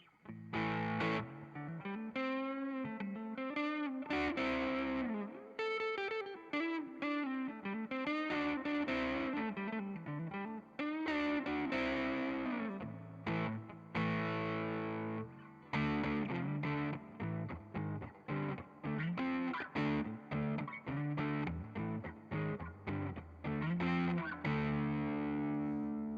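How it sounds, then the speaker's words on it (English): Electric guitar, an Eastwood Airline Jetsons '59 3P Deluxe through a Joyo Vintage Overdrive pedal, plays a riff of sustained chords and melodic lines, crunchy and thick, with short pauses between phrases throughout. "Go with kind of a tube screamer type sound, but this is actually the Joyo Vintage Overdrive"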